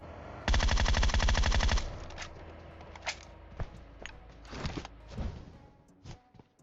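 A loud, rapid burst of automatic gunfire in PUBG Mobile lasts over a second, followed by scattered quieter shots and impacts, with no voices.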